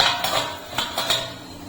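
A metal plate set down over food to cover it, making a couple of close, bright clinks and a short scrape, with no talking.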